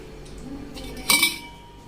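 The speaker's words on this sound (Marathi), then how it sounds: "आता आपण जी गुळवणी केली ती गाळून घेऊया" Metal utensils clink and clatter while cooled jaggery water is strained in a kitchen, with one sharp bright clink standing out among softer knocks.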